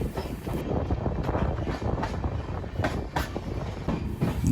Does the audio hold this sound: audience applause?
no